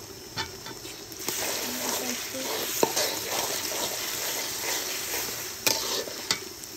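Garlic and ginger paste sizzles in a pan with steady hiss and scattered spoon stirs and clinks, one sharp clink near the end, no voices.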